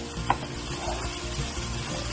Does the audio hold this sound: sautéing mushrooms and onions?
yes